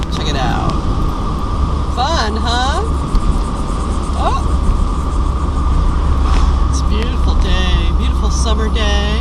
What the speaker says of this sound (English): Let's shift. Alright, I'm in 5th gear.